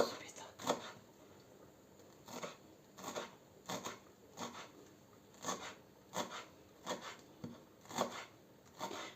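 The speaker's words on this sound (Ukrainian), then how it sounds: "Нарізаємо тепер трошки петрушки, трошки е, кропу" A knife chops parsley and dill on a board for an eggplant salad, with about a dozen crisp, evenly spaced chops at close range.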